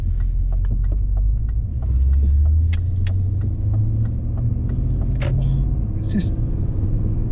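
The 4.9-litre V8 of a BMW E39 M5 runs with a deep, steady low rumble and a rising engine note inside the car, heard under someone talking, with a few faint clicks.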